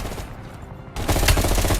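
Bursts of gunfire crackle through a firefight in Call of Duty: Black Ops Cold War, quieter at first and then louder and denser, a steady stream of shots without pauses.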